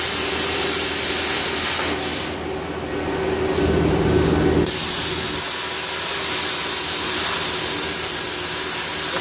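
A Messer burning table plasma cutting 16 gauge mild steel gives a loud steady hissing roar, with a brief drop and a lower rumble midway before the full rushing blast returns and holds.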